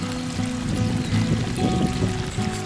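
A small stream on a hiking trail trickles and splashes nearby, a steady bubbling flow with irregular gurgles and no talking.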